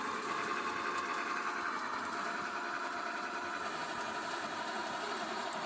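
A homemade 8x8 monster truck's motor runs steadily while pushing a mattress, a continuous buzzing whine with a faint rattle, holding an even loudness throughout with no pauses.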